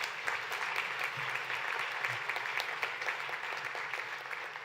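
Audience applause at a high-level opening session of international environmental conventions, honoring filmmakers: a dense, continuous wash of clapping from a large crowd, steady and even throughout, heard from a moderate distance.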